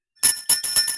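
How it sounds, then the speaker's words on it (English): A small bell rings bright and metallic during a radio show, four quick rings in a loose rhythm, loud and close with no talk over it. "Jazz, that bell's insufferable, but I kind of love it."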